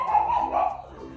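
Newton, a pet dog indoors, gives a couple of short, close yelping barks and whimpers, the calls drawn out and slightly whiny, fading toward the end.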